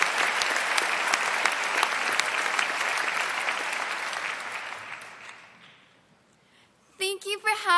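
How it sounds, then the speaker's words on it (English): A commencement crowd cheers and applauds for the class of 2016, loud dense clapping that fades out after about five seconds, followed by a speaker beginning to talk. "let's have a big cheer for class of"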